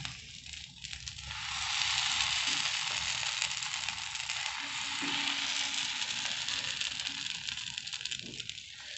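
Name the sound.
moong dal dosa batter spread on a hot pan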